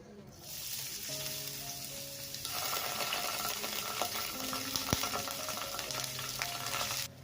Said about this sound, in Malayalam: മീഡിയം ഫ്ലെയിമിൽ വെച്ചിട്ട് ഇതിങ്ങനെ ഒന്ന് വഴറ്റി കൊടുക്കുക